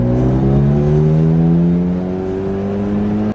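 A Mitsubishi Eclipse GSX on newly fitted Megan Racing coilovers drives along with a steady, close engine drone whose pitch climbs gently as it accelerates, running continuously without a break.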